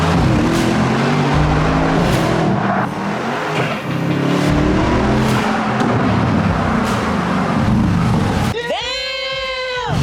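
A 700+ hp tuned Mercedes G-Wagon SUV engine roars hard under acceleration, loud and continuous, ending with a sharp rising whine as the revs climb and shift.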